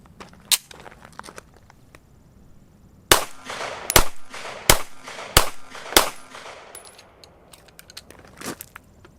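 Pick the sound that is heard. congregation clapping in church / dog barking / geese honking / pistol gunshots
pistol gunshots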